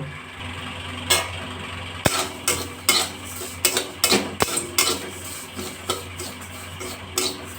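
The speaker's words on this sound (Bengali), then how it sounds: "দু মিনিট আমি ডালিয়াটা নাড়াচাড়া করব" Broken wheat dalia dry-roasted and stirred in a pan, with sharp repeated metallic scrapes and knocks of a spatula at an uneven rhythm, close and clear, no talk.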